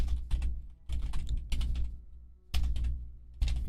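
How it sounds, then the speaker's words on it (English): Typing on a computer keyboard comes in quick bursts of close, crisp keystrokes separated by short pauses, with nothing else heard. "oof, nice bit of typing there."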